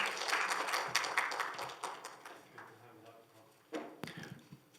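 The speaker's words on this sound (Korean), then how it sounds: "조윌렴 교수님을 박수로 맞아 주시기 바랍니다" An audience at a Korean basic-science forum claps to welcome a physics professor to the stage. The dense applause is fairly quiet and fades over a few seconds, with voices present and a sharp knock near the end.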